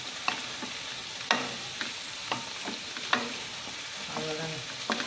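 Chicken fry being stirred in a pan just after coriander leaves are sprinkled over it, with a spoon scraping and clinking in a steady rhythm of separate strokes over a soft sizzle, close up and moderately quiet.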